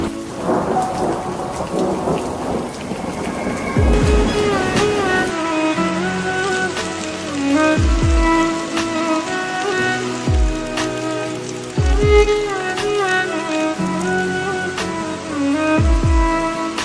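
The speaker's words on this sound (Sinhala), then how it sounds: "මොකද මගදී වහින්න ගත්තා." Rain falling during a walk near a cottage in Nuwara Eliya, Sri Lanka, a steady patter under repeated deep rumbling thunder claps, with rhythmic dripping on a surface.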